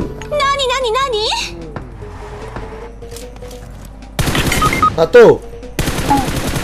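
Gunfire from a first-person shooter game as players shoot at bots, bursts of rapid shots and booms mixed with excited, animated talking from a young-sounding player over the game sounds.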